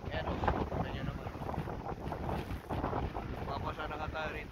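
Strong wind at Mission Bay in Auckland buffets the microphone with loud, gusty roaring. A voice talks indistinctly under the gusts.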